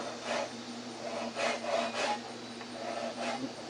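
A handsaw cuts wood at an angle in even rhythmic rasping strokes, about six pushes, close but fairly quiet, with no talking.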